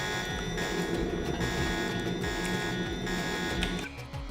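A video-game alarm buzzes in a harsh, steady, electronic drone with pulsing repeats, loud and continuous, then briefly dips near the end. No talking.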